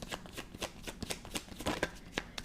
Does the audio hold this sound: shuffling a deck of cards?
yes